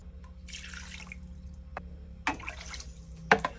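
Water poured into a pot of rice for arroz caldo, in short splashing bursts with a few drips and gurgles, alone and fairly close.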